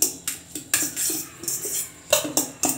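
Crushed bread and mashed banana being mixed in a bowl with a spoon, giving close, fairly loud clinks and scrapes in quick irregular strokes.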